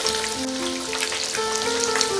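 Fish frying in a pan until golden brown on both sides, a steady close sizzle and crackle of hot oil throughout, no talking.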